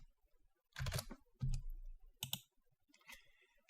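Keys clatter on a computer keyboard in short, irregular bursts with brief pauses between them. The typing is close and moderately loud, with no voices.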